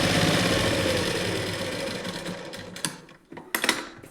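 A sewing machine runs steadily as it stitches through fabric, a continuous mechanical whir that slows and breaks into a few short clicks and taps near the end.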